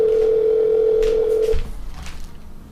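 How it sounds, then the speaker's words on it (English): A single steady electronic phone ringtone sounds for about a second and a half through an Otis & Eleanor Bongo Bluetooth speaker, then cuts off, leaving faint room noise. "You'll hear your phone ringing through the speaker"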